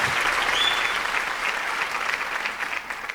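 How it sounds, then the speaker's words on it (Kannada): An audience gives a warm round of applause to welcome Anant sir at a tribute event, dense steady clapping from a sizeable crowd that tapers slightly toward the end. "ಒಂದು ಪ್ರೀತಿಯ ಚಪ್ಪಾಳೆಯನ್ನು ಅನಂತ್ ಸರ್ ಅವರಿಗೆ ಆರಂಭದಲ್ಲಿಯೇ ರವಾನಿಸ್ತಾರೆ"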